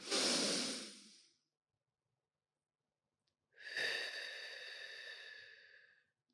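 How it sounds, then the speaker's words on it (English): A deep breath drawn in and, after a few seconds of silence, a long, slow breath pushed out, close and airy. "Box breathing, okay? Deep breathing."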